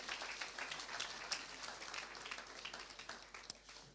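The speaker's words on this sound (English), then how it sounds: "Let's give everybody a round of applause," Audience at the Appointment of Titans day one event giving everybody a round of applause, faint, distant group clapping with a few sharper claps near the end.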